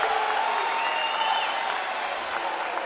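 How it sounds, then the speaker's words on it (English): A home crowd at a high school sectional basketball final cheers and applauds in a steady, loud roar that lasts throughout, with no talk. "immediately you hear the eruptions from the crowd"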